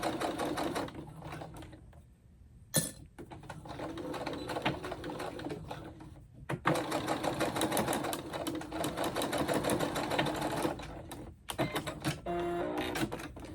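A sewing machine back tacks the seams of a fabric tissue pouch, running in steady mechanical bursts with brief pauses between passes, close and fairly quiet.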